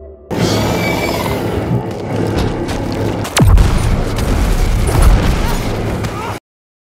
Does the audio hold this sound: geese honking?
no